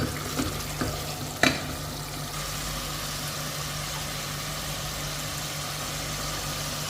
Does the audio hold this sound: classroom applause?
no